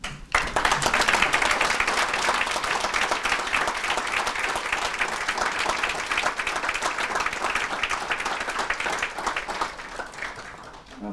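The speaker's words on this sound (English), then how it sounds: "just stand up for a second so we can applaud you" An audience at a community foundation annual reception breaks into sustained applause, a loud, dense roomful of clapping that starts abruptly, holds steady for about ten seconds and then tapers slightly.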